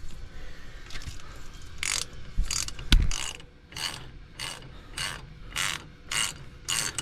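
A socket wrench with a 22 mm socket loosens a drain fitting, giving a series of rapid ratcheting clicks in repeated bursts, close and fairly loud, with one sharp metallic knock partway through.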